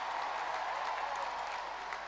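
Crowd applause at a ceremony honouring Tokyo Olympic hockey players, a steady, even wash of clapping from a large audience, moderately loud and continuous across the brief span.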